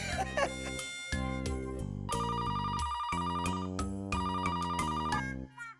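A telephone rings in a bright electronic ringtone, repeating melodic chirping tones in a steady pattern, loud and close, with no talking over it.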